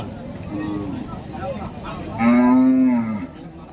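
Native cattle low at the Friday market in Kundarapalli, Krishnagiri district: a long, strong moo rises near the end after softer bellowing earlier, with market voices in the background.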